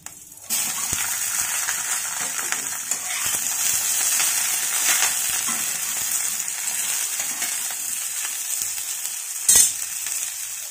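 Drumstick vegetable goes into hot oil with bay leaf and panch phoron in a pan, setting off a loud, steady sizzle that carries on with occasional stirring clatter and no talk.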